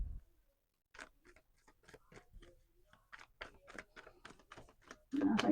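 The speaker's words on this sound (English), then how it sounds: "I think pretty much y'all can see me shuffling." Tarot cards being shuffled close up, a run of soft, irregular papery clicks and flicks at low level after a brief pause, ending in a louder rustling swish.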